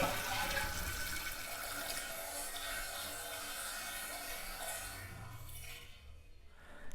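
Water rushes steadily into a Kohler toilet tank during a repair of a toilet that keeps running, a close, continuous hiss and splash that eases and thins near the end, with no voices.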